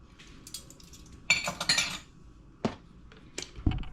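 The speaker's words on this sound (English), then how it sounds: "I'm going to mix all that together." A spoon stirring vanilla, almond and sugar filling for Barbados coconut sweet bread in a bowl, close metallic clinks and scrapes in short bursts with quiet gaps between.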